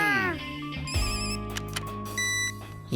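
A cartoon telephone rings in bright electronic trills, several short bursts separated by brief gaps, loud and close with no one talking over it.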